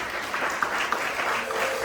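Church congregation clapping together to welcome guests at an ordination service, a dense, even patter of many hands sustained throughout.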